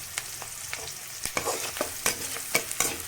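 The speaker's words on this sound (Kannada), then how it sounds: "ಈರುಳ್ಳಿ ಫ್ರೈ ಆಗಿದೆ" Onions frying in a pan for spicy okra curry, a soft steady sizzle broken by sharp scraping clicks as a spatula stirs them, close and without speech.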